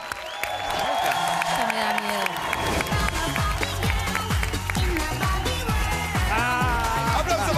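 A TV show studio audience applauds and cheers loudly throughout, with whoops and a voice speaking over the clapping.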